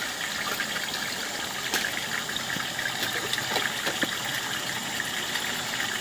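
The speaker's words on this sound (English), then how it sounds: "I'm putting hose water in here." Water from a garden hose runs steadily into a residential main lateral sewer line, a continuous broadband gushing and trickling wash with small splashy clicks, moderately close and with no talk.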